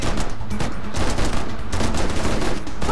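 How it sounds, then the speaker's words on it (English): Machine gun fire in the driving game Wheelman, loud sustained bursts of rapid shots with a few brief gaps, close and dense throughout. "Machine gun!"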